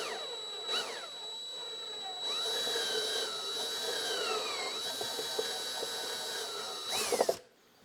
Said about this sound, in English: as you're drilling it kind of melts that plastic